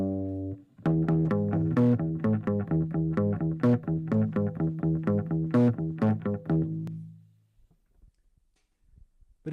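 Hofner bass notes played open, unmuted, through a slightly overdriven guitar amp: a steady run of ringing plucked notes, close and clear, ending in a fading sustain with no talking.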